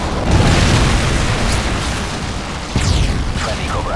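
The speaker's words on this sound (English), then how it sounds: "Friendly Predator missile inbound." A Predator missile strike explodes in Call of Duty MW3 team deathmatch on the Resistance map, a loud, sustained blast that rumbles and crackles throughout, with a second surge near the end.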